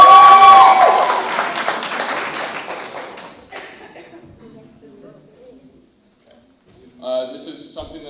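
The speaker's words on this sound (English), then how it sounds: "give me a little applause" Audience at a poetry slam applauding loudly at first, the clapping thinning and fading over a few seconds into quiet, followed by faint room noise and brief talk.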